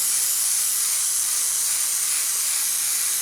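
An airbrush fed by a compressor sprays paint onto a 1/32 scale Wingnut Wings RE.8 model aircraft kit, giving a continuous loud, even hiss of air that runs unbroken throughout with no other sounds.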